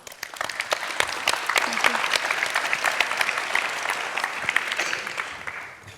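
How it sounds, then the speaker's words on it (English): A conference audience at a UN high-level panel on water gives warm applause: many hands clapping in a dense, crisp patter that swells and then tapers off near the end, with faint murmurs underneath. "if you can join me in giving them a warm hand of applause"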